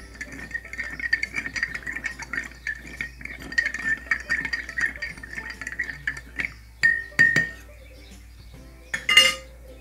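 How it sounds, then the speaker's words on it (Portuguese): A spoon stirs sugar into half a glass of orange juice, tinkling and scraping against the glass in quick uneven bursts, with a few sharper clinks near the end, close and alone. "Vamos colocar 5 colheres de açúcar e vamos mexer"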